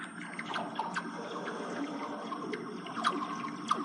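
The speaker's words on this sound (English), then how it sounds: "this is water going into the metal gutters that collect the water on" Water pours into the metal gutters lining a public swimming pool, making a steady trickling wash dotted with small splashy drips and ringing plinks. It stays moderately loud throughout, and no one speaks.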